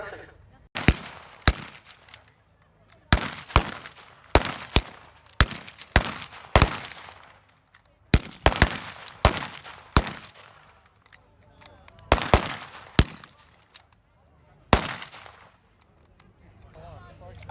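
Historic machine guns fire in short loud bursts and single cracks during a weapons demonstration at Rettendon, Essex, repeating irregularly over roughly seventeen seconds with echoes and quiet gaps between them.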